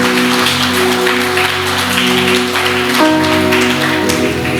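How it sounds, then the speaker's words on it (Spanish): A church congregation claps during worship, rhythmic applause over sustained musical tones of instruments, fairly loud and close, with no speech over it. "¿Alguien le puede aplaudir a Jesús mejor que eso?"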